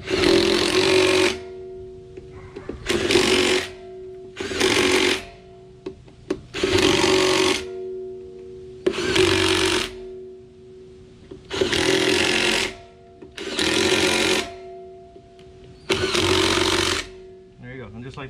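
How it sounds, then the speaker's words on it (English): A 3/8-inch Bauer cordless impact wrench with a small battery tightens beadlock trim ring bolts on a Ford Bronco Wild Trak Sasquatch edition wheel, giving about eight loud hammering bursts of one to two seconds each, separated by short pauses. "This is just a 3/8 Bauer impact, nothing strong."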